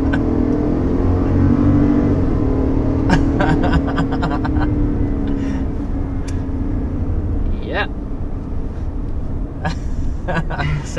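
The engine of a 2023 Toyota Sequoia Capstone gives a loud, low drone that rises slightly in pitch and then settles back into a steady rumble, heard close up under ongoing talk.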